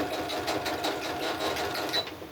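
A sewing machine stitching a straight line on a crazy quilt block, running in a rapid, even whirring chatter at close range for a couple of seconds before slowing at the end.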